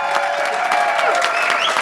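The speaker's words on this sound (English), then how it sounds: "Let's give them one more round of applause." Audience applause for the 2025 global winners at the close of a youth entrepreneurship challenge event, a steady dense wash of many hands clapping that holds for the whole stretch with a few faint voices mixed in.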